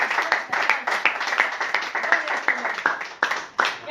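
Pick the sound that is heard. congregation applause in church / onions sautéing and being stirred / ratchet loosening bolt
congregation applause in church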